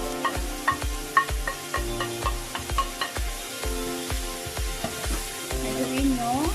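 Vegetables with scallion and ketchup being stirred in a frying pan for a corn pudding, a soft sizzle under rhythmic scraping strokes and low thuds of the spatula, repeated steadily and close by.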